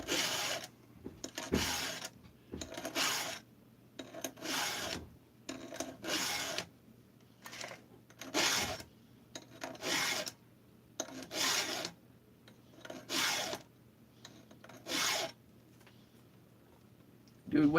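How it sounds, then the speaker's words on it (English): A hand file sharpens a chainsaw chain in repeated rasping strokes, each a short burst of scraping with brief gaps between, steady in rhythm and close up; a voice is heard intermittently. "Everybody's supposed to sharpen chains together"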